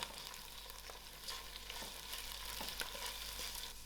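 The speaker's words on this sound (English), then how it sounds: "I'm going to allow this to fry out." Mustard seeds, ginger garlic and green chilies fry quietly in a pan for a dal curry, giving a steady soft sizzle with faint crackles and occasional stirring scrapes.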